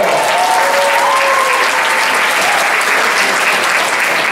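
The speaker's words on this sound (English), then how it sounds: "Give yourselves a big round of applause." A large gala audience applauds loudly and steadily, a dense wash of clapping that holds for the whole stretch.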